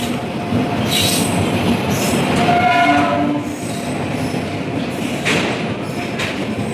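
A train rolls in steadily with rumbling wheels, metallic squeals and a brief horn-like tone, loud and close, with no voices.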